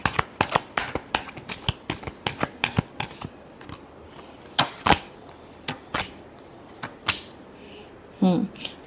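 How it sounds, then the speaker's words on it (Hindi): Tarot cards are shuffled in quick, crisp riffling bursts, a run of sharp snaps that thin out into scattered flicks, close and fairly quiet, with a brief voice near the end. "Last shuffle."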